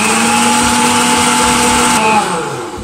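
A stand mixer runs steadily while mixing pizza dough, a loud, close electric whine with a constant tone that drops and fades near the end as the motor winds down.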